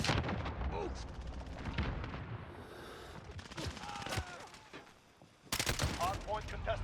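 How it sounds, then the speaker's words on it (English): A cluster strike in the Modern Warfare 2019 game sends rolling explosions and gunfire booming in bursts, with short lulls between them. Game voice lines are heard throughout. "Allied cluster strike incoming"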